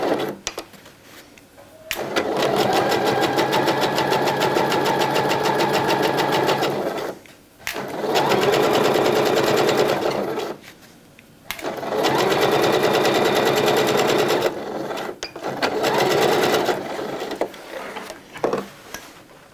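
A sewing machine runs topstitching along the edge of a pair of shorts, whirring steadily in long bursts with short pauses between runs as the fabric is repositioned.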